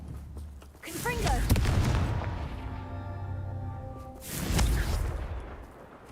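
A Confringo fire spell explodes in Hogwarts Legacy, a loud blast with a rushing burst and rumbling tail, swelling again into a second boom near the end, under game ambience and music.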